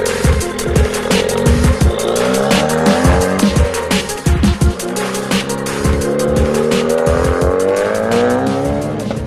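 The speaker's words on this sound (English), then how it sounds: "today I'm driving, as you probably guessed, a 2016 Ford Focus RS" A 2016 Ford Focus RS hot hatch driven hard, heard from inside the cabin: a loud, steady engine note rises and falls through the gears, with repeated sharp tire squeals and skidding bursts over the drone and no talking.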